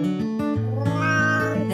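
A cat meows in a drawn-out, tonal cry, close and clear, its pitch rising and then falling, with a few shorter vocal bursts around it.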